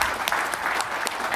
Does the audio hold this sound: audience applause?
yes